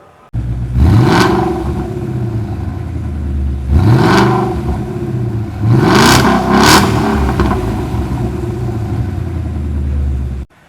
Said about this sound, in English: that V8 engine growl sounds so much better with this Shelby catback exhaust system